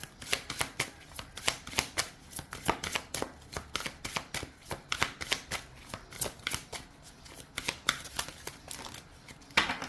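A deck of oracle cards shuffled by hand in a steady run of crisp riffling bursts that flutter close and fairly loud across the whole stretch, with no voice over them.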